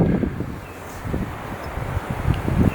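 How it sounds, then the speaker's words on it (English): Wind blowing outdoors on a damp day, a low steady rumble of gusts buffeting the microphone, swelling and easing unevenly with no voices over it. "It's also a bit windy"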